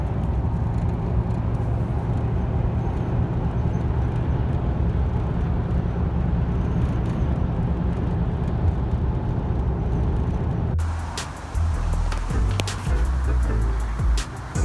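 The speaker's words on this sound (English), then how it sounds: "this is what it sounds like on the freeway" Duraturn mud terrain tires, 33x12.50 R20, on a lifted 2002 Dodge Ram cruising the freeway give off a steady low road drone and rumble heard from inside the truck, with a brief bump in the noise near the end.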